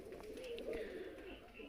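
Punjabi Malwai pigeons coo softly in low rolling calls, faint and close-set over a quiet background, with no talk during the brief stretch.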